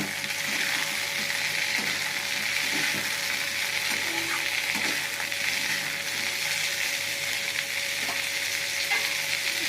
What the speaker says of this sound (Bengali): তেলের সঙ্গে একটু সবজিটা ভাজা ভাজা করে নেবো।